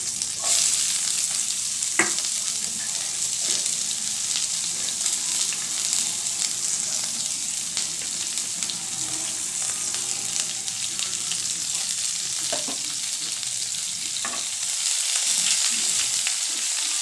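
Chopped onion frying in oil over a low gas flame, giving a steady, continuous sizzle with occasional clicks and stirring scrapes throughout.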